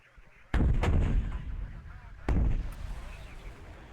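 Mortar and artillery fire in the video game WARNO: two loud, close booming blasts about two seconds apart, each followed by a rumbling decay, with faint background battle noise.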